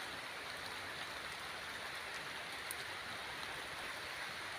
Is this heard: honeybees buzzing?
no